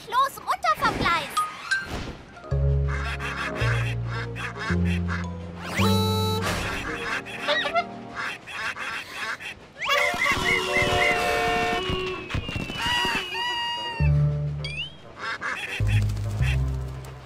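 Cartoon ducks quack in the German-language Thomas & Friends animation, woven into a busy bed of music and speech, with bright nasal calls standing out in places.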